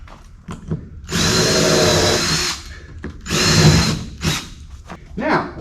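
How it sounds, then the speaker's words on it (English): A power drill drives stainless steel screws through a scarf joint into a wooden boat hull frame, sounding as two loud, sustained whirring bursts of a few seconds each, separated by short knocks and a faint voice. "screw the on-hull scarf into the frame behind it"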